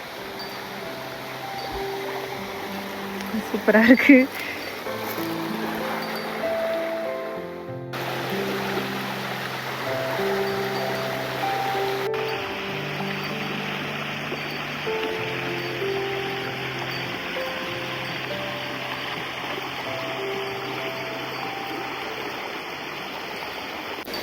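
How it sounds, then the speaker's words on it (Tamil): River water rushing and babbling steadily after rain, released through an opened channel near a garden, a continuous hiss under soft music, with a brief voice and a short rustle near the start. "ஓட அப்படியே தண்ணி சலசலன்னு போகிற மாதிரி தண்ணி ஓடிட்டுருக்கு."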